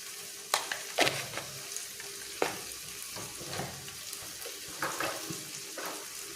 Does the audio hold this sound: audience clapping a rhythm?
no